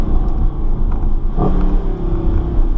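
A Mercedes SLS AMG's exhaust rumbles steadily up close, a low throaty drone with a short rise in pitch partway through.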